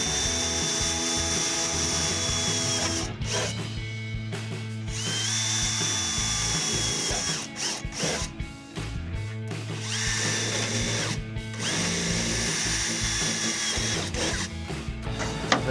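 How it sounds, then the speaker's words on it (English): A power drill whirs loudly and steadily for several long bursts, with brief pauses between runs as it bores pilot holes in a Toyota Tacoma wheel well. "drill just a couple of pilot holes."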